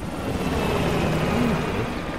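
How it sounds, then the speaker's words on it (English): A helicopter lifting away during a Call of Duty Black Ops Cold War game, a steady droning rotor-and-engine rumble that holds at an even, fairly loud level throughout with no clear talk over it. "the chopper got away!"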